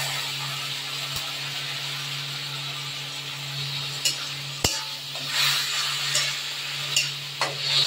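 Spice paste with onions frying in oil for a Bengali katla kalia fish curry, a steady close sizzle under intermittent scraping and stirring clicks from a utensil in the pan, with no talk.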